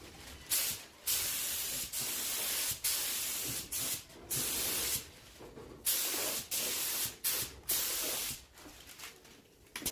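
Spray gun laying a second, slightly heavier coat of paint over a burnt, stained finish, hissing in about a dozen short bursts with brief pauses between them, close and steady, with no talking.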